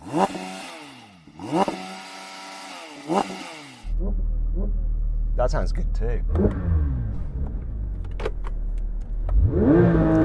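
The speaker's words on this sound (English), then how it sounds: "can you rev up your car?" Porsche GT car engine revs up from idle, a loud throaty rumble with rising and falling revs close by, after speech at the start and with voices over the idling engine.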